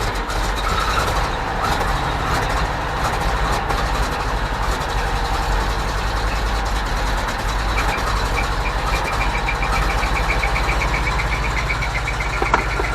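A GMC C7000 AWD dump truck sits idling outdoors on a mild day, its diesel-like engine rumbling low and steady with a constant throbbing drone close by and no speech over it.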